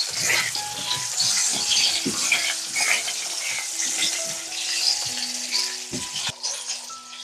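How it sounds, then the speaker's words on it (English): Kielbasa sausages sauté in rice bran or olive oil in a pot, giving a steady, close sizzle with occasional stirring clinks and scrapes throughout. "Sautéing some kielbasa sausages in rice bran oil or olive oil."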